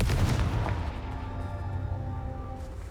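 A Confringo fire spell explodes in Hogwarts Legacy, a booming burst at the start that decays into a rumbling tail and fades over a few seconds.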